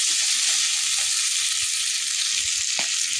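Shrimp and oil frying in a wok, a steady dense sizzle that holds level throughout, with a few faint soft knocks underneath and no voices.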